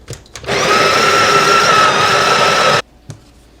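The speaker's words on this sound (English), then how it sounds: "Again, we are set at 14-second grinder cycle." A Breville Barista Pro BES878 espresso machine's built-in coffee grinder runs in one loud, steady, close whirring burst of about two seconds, bracketed by brief clicks and taps before and after.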